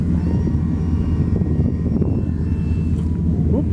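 A 60-inch scratch-built model snow plane with a propeller engine drones steadily overhead, loud and continuous with no talking.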